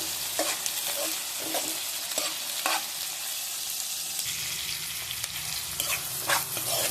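Crab gravy ingredients, salted onions, sauté in a pan with a constant oily sizzle, broken by repeated scraping strokes of a stirring spoon close by.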